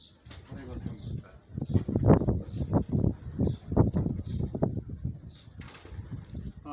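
Racing pigeons released in Dakhla burst into flight with rapid, dense wing flapping and clattering, near and loud, with occasional coos and faint chirps behind.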